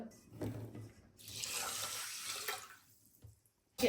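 Water runs from a kitchen tap to measure out for cooking sushi rice, a close splashing stream that starts, swells into a steady hiss for a couple of seconds, then stops.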